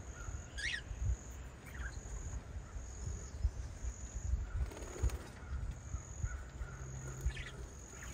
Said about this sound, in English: So here are all the small parrots, the budgies and cockatiels.